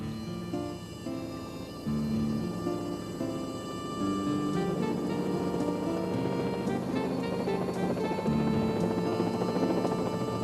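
Rotor blades of a Bell Model 47 helicopter beat with a steady, continuous throb, blended with tonal music that plays throughout.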